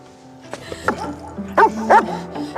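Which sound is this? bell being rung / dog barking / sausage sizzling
dog barking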